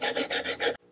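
A steel chisel being sharpened on a wet sharpening stone gives four rhythmic, close rasping strokes back and forth, then stops abruptly into quiet.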